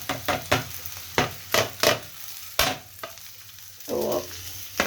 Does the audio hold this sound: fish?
yes